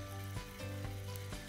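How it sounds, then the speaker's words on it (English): Meatballs sizzle steadily in a hot frying pan, a close, continuous crackle with a few soft bumps as they are moved around. "Sizzle factor, always good."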